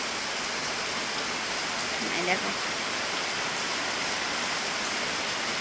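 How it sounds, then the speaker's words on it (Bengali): Heavy monsoon downpour, a dense, steady roar of rain filling the whole clip with no breaks; a voice speaks briefly in the middle. "কীরকম মুষলধারা বৃষ্টি শুরু হয়ে গেল"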